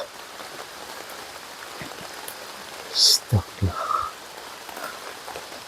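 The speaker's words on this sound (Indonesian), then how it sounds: "Ini suasananya gerimis lagi Lur." Light drizzle falling outdoors: a steady, soft hiss of fine rain throughout, with a short spoken exclamation and brief voices breaking in just past the midpoint.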